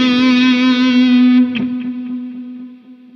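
A sustained electric guitar lead tone through amp-simulation software rings out, then a second strum decays into a long, washy reverb tail that fades gradually.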